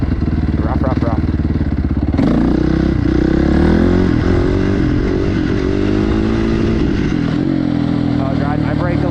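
A motorcycle engine running while riding, a loud close drone whose pitch climbs and wavers as the rider revs and shifts, with a rider's voice speaking over it.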